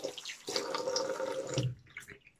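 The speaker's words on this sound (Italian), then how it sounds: "Andiamo ad aggiungere un po' di acqua," Water splashes and trickles onto a badger-hair shaving brush during wet shaving prep, a short close burst of running and dripping that fades into quieter drips.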